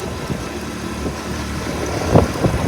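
A motorbike rides along a dusty village track with wind pushing from behind, its engine a low steady rumble under gusty rushing air, with a couple of brief thumps near the end.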